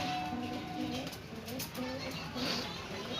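Pigeons coo softly and repeatedly at an outdoor spot during an engagement gathering, their calls mixed into steady background chatter and voices.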